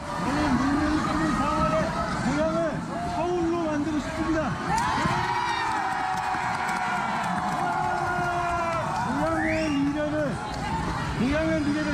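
Supporters holding red balloons cheer and shout at a People Power Party election rally in Goyang, a steady roar of crowd noise with voices rising over it throughout.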